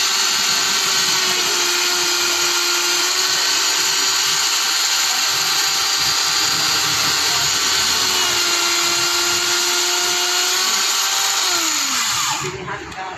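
An electric drill whines continuously at a steady pitch, close and loud, while winding a 4-inch angle grinder armature, then slows and winds down near the end.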